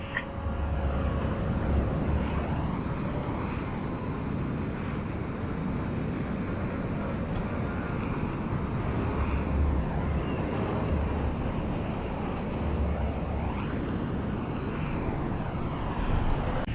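Starfighter engines roaring in the Star Wars: Squadrons video game as ships fly fast and close along a Star Destroyer's hull, a steady, dense rumble with jet-like whine holding throughout.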